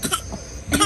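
A baby gives a few short coughs after eating, close by, with a quiet pause between two bursts.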